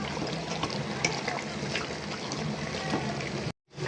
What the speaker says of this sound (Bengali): আমি এখন দিয়ে দিচ্ছি পানি।